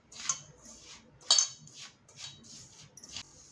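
Semolina and gram flour being mixed by hand in a bowl, heard as a series of light metallic scrapes and clinks of a spoon against the bowl, spaced irregularly with quiet gaps between.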